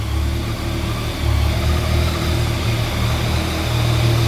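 A Yamaha MT-09 Tracer or BMW F750GS motorcycle engine idles steadily while warming up, a loud, continuous low rumble with slight swells and no voices.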